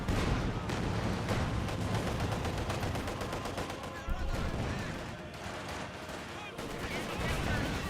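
Infantry gunfire in Company of Heroes 2: dense, continuous rattling rifle and machine-gun bursts with booming impacts, loud and busy throughout, under a commentator's voice.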